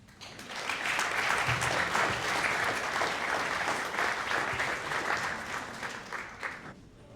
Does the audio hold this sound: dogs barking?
no